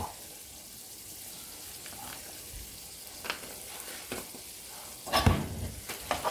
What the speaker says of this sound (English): Mix it up a little bit, all up, get it all stirred up, give it the flavor.